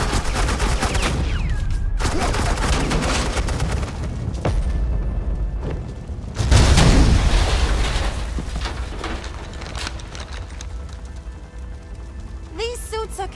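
Suppressing gunfire in Batman: The Enemy Within, with bursts of automatic shots and a heavy boom midway, mixed under spoken dialogue and game effects at moderate loudness.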